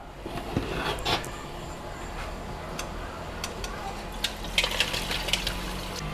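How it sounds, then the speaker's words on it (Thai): Hot pork-fat oil poured out of a frying pan after crisping pork cracklings for Thai boat noodles, a close liquid pour with small ticking spatters and clinks, no voices over it. "เดี๋ยวเราจะเทน้ำมันออกเหลือไว้เพียงนิดหน่อยเพื่อเจียวกระเทียมต่อครับ"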